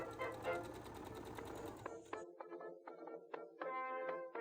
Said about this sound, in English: Then I fold the sleeve in half and sew down the side seam here